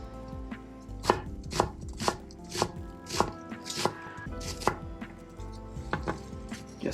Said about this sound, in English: We just finished chopping our onions here.